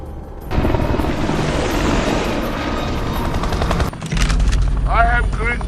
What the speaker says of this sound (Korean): 근처의 헬기들이 일행들을 발견하게 되지만